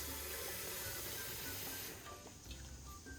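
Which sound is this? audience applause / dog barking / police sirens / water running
water running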